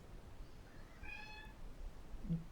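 A single drawn-out cat meow rises and falls over a low background rumble, moderately near but not very loud.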